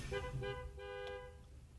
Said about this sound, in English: Why are they honking?